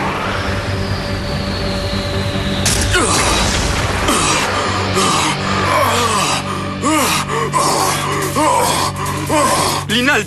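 A cartoon character pants heavily, out of breath after a battle in the Bakugan Gundalian Invaders anime, with rapid repeated breaths under dramatic music and whooshing effects.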